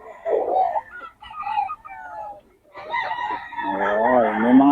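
A rooster crows in a market where fowl are sold, with hens clucking nearby; the long crow rises clearly in the second half, near and loud, after shorter clucks and calls.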